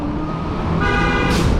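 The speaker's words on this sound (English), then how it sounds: "People honking at each other back there." Car horns honking in roadway traffic, loud and steady, blaring over a constant rumble of passing vehicles, with a brighter horn note rising near the end.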